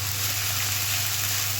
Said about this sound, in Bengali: দেখো, আদা রসুন পেঁয়াজটা ভালো করে ভাজা হচ্ছে।